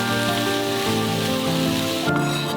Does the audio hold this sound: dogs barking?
no